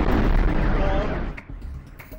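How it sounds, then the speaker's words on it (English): A petrol station explosion erupts as a loud, deep roaring blast that starts at full force and dies away over about two seconds. "this is what happens when a petrol station goes boom"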